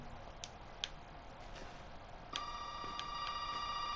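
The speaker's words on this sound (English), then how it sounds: "I don't think I should answer the phone." In the horror video game Resident Evil 7, a telephone in a basement starts ringing partway through with a steady electronic tone after faint ticking and clicks, heard alone without talk.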